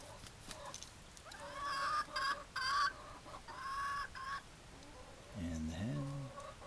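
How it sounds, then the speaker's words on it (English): Backyard chickens, a rooster and a hen, cluck in a string of short bursts at moderate distance, ending with a lower, louder squawk near the end. "So we got the rooster."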